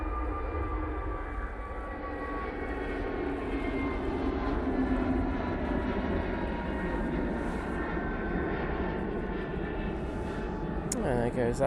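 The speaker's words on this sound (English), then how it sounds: "There goes that EasyJet A321neo going off to Sofia." EasyJet Airbus A321neo taking off from an airport for Sofia, a continuous moderate engine roar with faint tonal whine, steady across the stretch, heard from a distance with a voice talking over it.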